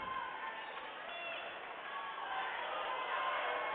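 Wright State fans in the crowd at a women's volleyball match against Dayton in an indoor arena, a steady, dense wash of cheering and crowd noise with a commentator's voice over it.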